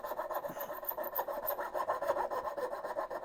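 Coping saw cutting a curved dovetail in wood, a quick run of close, rhythmic rasping strokes, fairly quiet and without talk.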